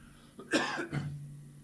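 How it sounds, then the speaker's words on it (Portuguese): A single short cough from a man in the middle of a talk, one throaty burst followed by a brief trailing hum, close and clear with no words around it. "Só dá uma tossidinha aqui, peraí."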